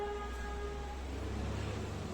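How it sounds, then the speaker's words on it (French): A steady low rumble of city traffic heard through an open window, with a sustained car horn tone holding through the first part and more traffic noise after it. No one speaks. "la fenêtre elle est ouverte, hein. Du coup ça klaxonne de partout."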